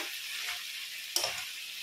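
Meat fries in the oil it has released in a wok, making a soft, steady sizzle with one brief scrape of a spoon, short and close with no voices.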